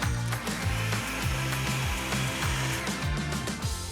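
A blender runs loud and steady, purging tropical sorbet with egg white into a glossy, whipped mix; the motor whirs continuously with rhythmic pulsing dips in pitch as the blades churn, with no talking.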